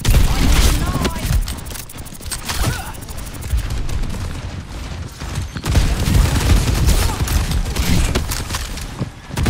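Dense, continuous gunfire in the Overwatch 2 video game, with rapid bursts and booming impacts filling the whole stretch, loud and close, and a player's voice talking under it at times.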